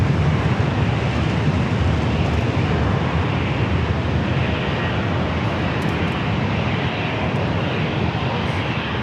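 Southwest Boeing 737-700 rolling for takeoff on runway 27 at San Diego airport, a loud steady jet roar with broadband rumble and wind noise filling the whole stretch.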